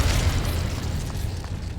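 Incendio fire spell cast in Hogwarts Legacy, a dense, continuous low rumbling burst of magical flame that roars steadily for nearly two seconds, with no talking over it.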